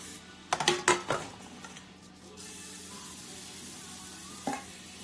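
A few short hissing bursts of non-stick cooking spray into cake pans near the start, then a steadier faint hiss and one more quick burst near the end, with light clatter.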